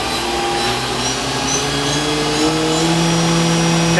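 A Haas VF-4SS CNC mill spindle, a 2015 machine rated to 15,000 RPM, spins steadily at 5,000 RPM, giving a loud continuous whine with layered tonal hums and no talk.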